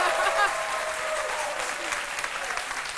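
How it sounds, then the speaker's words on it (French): Loud, dense applause from a crowd cheering for the entertainer Tonton Ballon, a continuous full clatter of clapping hands with faint voices mixed in, holding steady across the few seconds. "On applaudit très fort pour Tonton Ballon."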